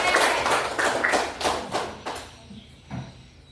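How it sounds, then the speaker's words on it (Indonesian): An elementary school classroom claps for a student, a quick run of rhythmic group claps that gradually thins and fades. "Tepuk tangan untuk Kakak Salim"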